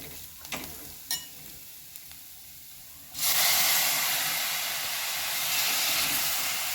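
Green tomatoes drop into a hot pan already spiced with turmeric for a rustic dry sabzi. After three seconds of quiet kitchen ticks, a loud, steady frying sizzle bursts in and carries on close up, with no talking.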